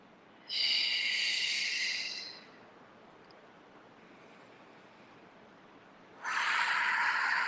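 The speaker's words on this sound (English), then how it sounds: "While you're breathing." Deep breathing during a tai chi exercise: two long, loud, airy breaths close up, one early and one near the end, separated by a quiet pause.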